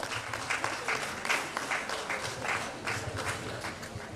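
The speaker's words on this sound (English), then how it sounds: "Shall we sustain the applause for Mr. Governor?" Sustained applause from a summit audience of professional managers for the governor, a steady crowd of clapping hands rising and falling slightly in intensity, filling the room at moderate volume with no voices.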